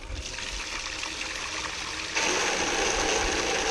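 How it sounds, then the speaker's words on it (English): Tap water gushes steadily into a sink while cleaning concentrates, a continuous hiss that swells louder partway through as the flow is opened up, close and alone without talk. "Turn on the water."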